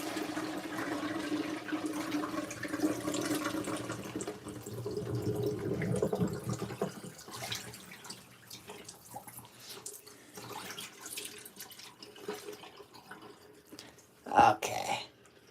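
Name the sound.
LG ThinQ MEGA washer filling with water, waterfall fill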